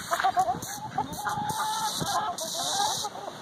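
Chickens cluck and squawk close by while pecking at bare toes, short agitated calls overlapping with a person's voice speaking over them.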